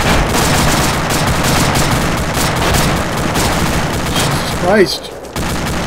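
Heavy gunfire and rocket fire from an SPG-9 recoilless rifle in the military video game Arma 2, a dense continuous barrage close by, with a sharp rising whoosh near the end and a voice exclaiming over it.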